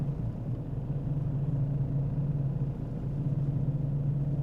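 A 1988 EA Falcon fitted with a 2008 Falcon engine pulls away, its steady low engine rumble close and moderately loud, with no voices over it.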